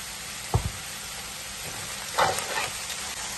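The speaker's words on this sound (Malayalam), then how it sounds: "ഉള്ളി എല്ലാം കൂടെ ഇട്ട് ഒന്ന് വഴറ്റി വെക്കാം" Onions sauté in a pan for chicken curry with coconut milk, a continuous close sizzle broken by a stirring knock and a brief louder burst of frying, with no voice.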